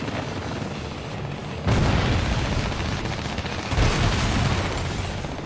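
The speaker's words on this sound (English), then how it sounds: "I'm still hearing gunfire over here." Heavy booms of gunfire and blasts in Ace Combat: Assault Horizon hit in bursts, with two sudden loud surges over a constant din.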